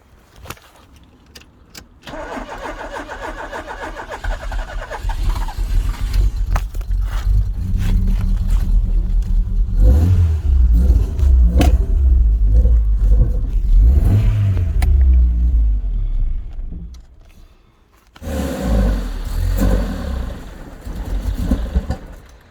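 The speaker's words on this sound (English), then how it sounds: "It's almost going, this car." A Rover 820 car engine coughs and sputters as it cranks, catching in uneven bursts and revving briefly before dying, then cranking again, close and fairly loud.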